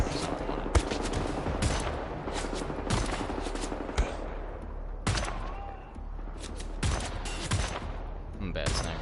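Sharp, loud gunshots ring out in the video game Wolfenstein, some single and some in quick rapid bursts, with short gaps of quieter game ambience between them.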